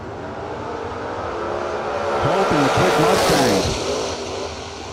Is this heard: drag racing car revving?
yes